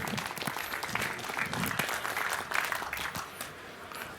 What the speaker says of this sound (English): I would like to hear a warm round of applause for Reticulum